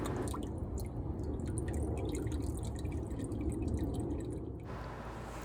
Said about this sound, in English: As I lift it, I'm letting a lot of the water drain out.